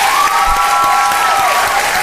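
A large audience applauds after a talk by poet Nikki Giovanni, a loud, dense wash of clapping with some cheering running through the whole short stretch.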